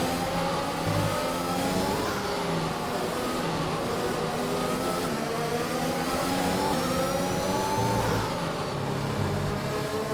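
A racing car engine in a Spanish Grand Prix race in a racing video game drones steadily at high revs, pitch rising and dipping through gear changes, loud and constant with no talking.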